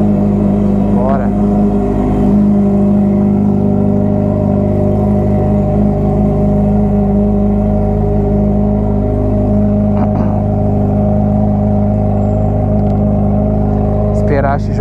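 A Yamaha XJ6 motorcycle idling while it warms up, with a steady low engine rumble held close and loud throughout and a few brief higher noises.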